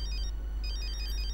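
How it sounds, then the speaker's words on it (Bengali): A phone rings indoors with a steady electronic ringtone, repeating high tonal bursts in two short phrases over a low background hum, with no talking. "তো ফোন এসছে"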